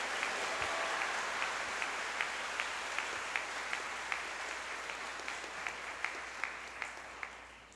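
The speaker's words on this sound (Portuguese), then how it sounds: "Vamos dar um forte aplauso a São José." Church congregation applauding during a Portuguese-language novena homily for Saint Joseph, even clapping that fades gradually, with a regular sharp slap standing out about every third of a second above the crowd.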